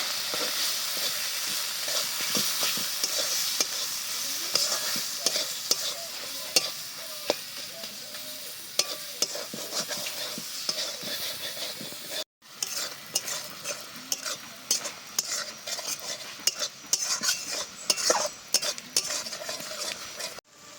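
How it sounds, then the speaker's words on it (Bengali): Spice masala with Kashmiri chili powder, salt and turmeric is stirred and fried in a pan for an egg and soybean curry. A sustained sizzle runs under repeated scraping strokes and sharp utensil clacks against the pan, close up, with a brief break midway. "এবার সব কিছুতে খুব ভালো করে আগে কষাবো"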